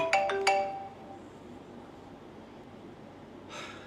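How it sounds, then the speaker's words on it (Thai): A mobile phone ringtone chimes in a quick burst of bright melodic tones at the start, then fades into quiet room noise with a soft breath near the end. "มึงก็รับโทรศัพท์ได้ไหม"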